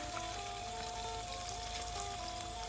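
Eggs fry in a pan at an outdoor meal by rice fields, a dense steady sizzle that stays constant and fairly loud with no talking.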